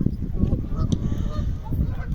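A herd of mute swans calls outdoors at a feeding spot, giving short nasal honks and snorting grunts that repeat irregularly over a steady background murmur.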